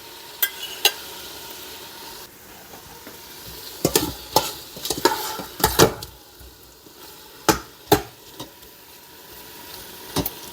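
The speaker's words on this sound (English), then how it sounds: "Continue sauteing a little bit." Seared beef sautés in an Instant Pot with its juices, giving a soft continuous sizzle broken by irregular sharp scrapes and knocks of a utensil stirring against the pot, close and clear with no talking.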